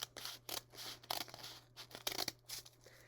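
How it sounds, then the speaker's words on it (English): Scissors snip through paper in a series of short zigzag cuts, a quick irregular run of crisp close-up snips with no talking. "And now I'm going to go on the other side and do a cut."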